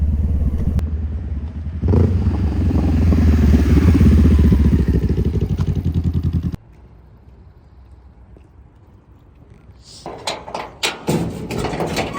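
A motorcycle engine runs close by with a steady, loud idle that swells slightly and then cuts off abruptly, followed by quieter handling clatter.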